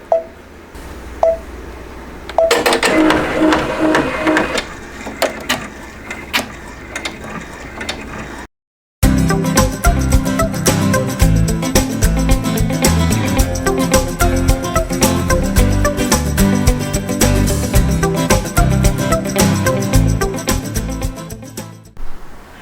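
A home embroidery machine stitching an appliqué design in dark green thread, its loud rapid mechanical clatter and ratcheting running steadily and close, with a brief gap partway through before the stitching resumes, no voices.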